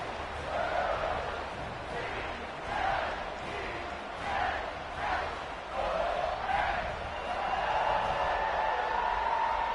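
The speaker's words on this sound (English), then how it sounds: "and this crowd is buzzing after that last score" A football stadium crowd at a Missouri–Clemson game buzzes after a score, a dense, steady roar of many voices with swelling surges, heard at a distance and continuous throughout.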